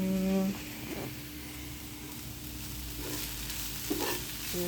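Fenugreek seeds being dry-roasted and stirred by hand in a pan, with a soft crackle and a few scraping stirs, while tonal music plays over it.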